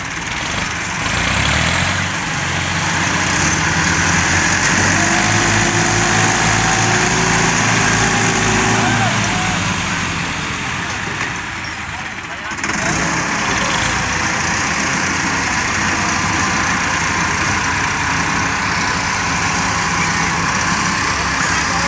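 A tractor engine working hard to pull a stuck trolley free, a loud continuous rumble that rises and falls with load, briefly dipping midway before resuming strongly.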